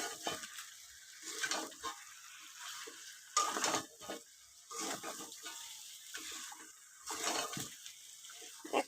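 Potatoes frying in a pan in a home kitchen, with intermittent bursts of sizzling and stirring scrapes that rise and fall in uneven surges, fairly close and moderately loud.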